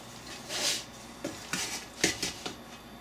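Ground beef and potatoes being stirred in a pan, a metal utensil scraping and clinking against the pan in several quick, close strokes with short pauses between them.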